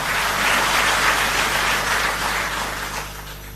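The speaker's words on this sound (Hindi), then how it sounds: "तो एक बार जोरदार ताली हम दिल्ली जल बोर्ड के सभी अधिकारियों और सभी कर्मचारियों के लिए बजाएं।" Audience applause for Delhi Jal Board officers and staff, a dense, steady clapping that fills the whole moment without voices.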